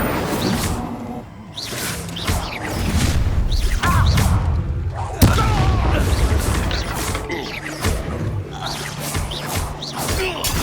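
An Incendio fire spell is cast during a Hogwarts Legacy duel: loud whooshes, bursts and crashing impacts in a dense stream of combat effects.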